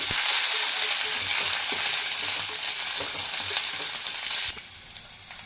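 Garlic and green chillies frying in a pan for a spicy green chilli chicken pulao, a loud continuous sizzle with faint scraping of a spoon, no talking.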